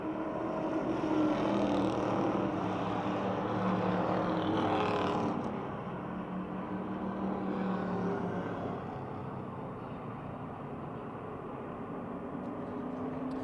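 Stock cars race at Motordrome Speedway in 2007, their engines roaring loudly as they run down the back straight, then fading to a lower, more distant drone as the pack moves away.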